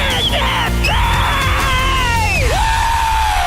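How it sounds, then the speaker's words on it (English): A crowd yells a loud, sustained celebratory scream to mark paying off debt, rising with whoops and cheers that swell, dip briefly, then carry on at full volume close by. "Let's hear a debt-free scream"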